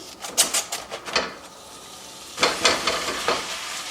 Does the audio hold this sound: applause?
no